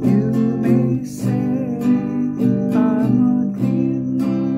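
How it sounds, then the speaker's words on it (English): A guitar plays a slow song refrain in a whole-note strumming pattern, with single full strums that ring out and sustain. Each chord strike is followed by a long fading ring, close and clear, with no voices. "this is a basic strumming pattern which we call whole note strum"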